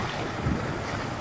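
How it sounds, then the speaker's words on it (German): Strong, constant wind buffets the microphone at a sailing regatta, a dense continuous rush mixed with water and boat noise and no speech. "Der Wind war stark, aber konstant"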